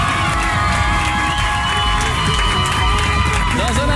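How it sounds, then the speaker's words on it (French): A studio audience at a French television show breaks into loud applause and whooping cheers for a departing guest, a thick, constant crowd roar with shouts and some voices mixed in over faint music. "je vous demande d'applaudir très fort Tal qui était avec nous"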